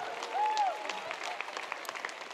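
A live roast show audience claps in a short, fairly faint burst of steady applause, with a brief rising-and-falling tone near the start and some voices underneath.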